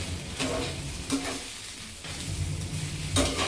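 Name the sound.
stirring and sautéing rice for veg pulav in a pan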